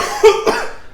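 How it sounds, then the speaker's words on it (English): A person coughs after eating the One Chip Challenge hot chip: two quick, close, harsh coughs in rapid succession, alone with no talk. "Oh, you're just coughing it back up now."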